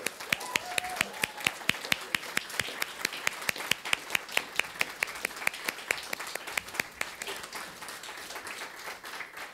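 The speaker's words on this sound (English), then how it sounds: "can we give them a round of applause?" A church congregation applauding the board of trustees: sharp, distinct claps from a smallish group, fairly steady and evenly paced, moderately quiet and fading out near the end.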